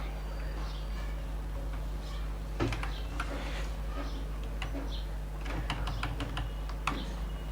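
Fingers type on a computer keyboard while writing code for a desktop voice assistant, making irregular bursts of close, crisp key clicks over a steady low hum.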